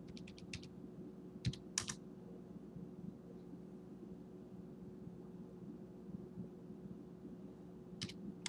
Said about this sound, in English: I'm just typing these in real quick